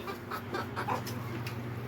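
Silkie chickens cluck softly in a coop bedded with hay and straw in winter, a few short clucks spread across the moment over a low steady background hum.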